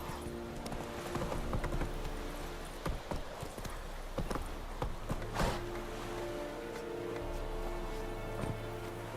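Horse Roach trotting in The Witcher 3, a steady run of close clip-clop hoofbeats on hard ground with an occasional snort, continuing under faint background sounds.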